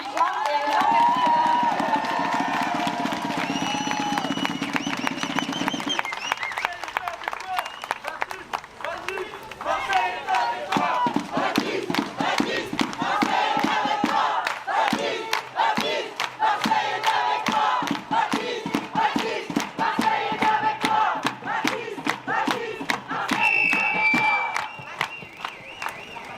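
Large outdoor crowd at a French rally for a Palestine solidarity caravan and flotilla, clapping and cheering loudly and continuously for about 26 seconds, with scattered shouts and voices mixed in.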